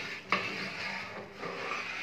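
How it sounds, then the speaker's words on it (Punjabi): Tadka tempering stirred in a pan at a roadside community kitchen cooking for stranded truck drivers, a faint, steady scraping and rustle with one sharp metallic clink early on. "ਤੜਕਾ ਚੱਲੀ ਜਾਂਦਾ।"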